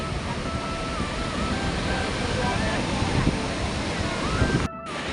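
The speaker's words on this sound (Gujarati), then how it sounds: "આ બાજુ તમે જોઈ શકો છો ફૂલ ઓવરફ્લો થઈ ગયો છે વનાકબોઈ" Water overflowing Wanakbori dam in Gujarat, a continuous broadband roar of rushing water heard outdoors with wind buffeting the microphone, steady throughout and cut briefly near the end.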